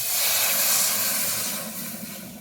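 Water poured into a pan of freshly fried vegetables on a village kitchen stove sets off a loud, steady steam hiss and sizzle that slowly eases, with no talking.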